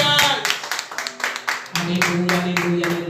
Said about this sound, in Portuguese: E quem crê, aplaude ao Senhor em nome de Jesus.